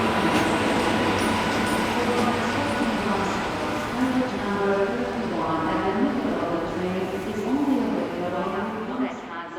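A train rumbles steadily through Budapest-Nyugati station, with a continuous rolling drone and faint wheel squeal, under a voice talking over it.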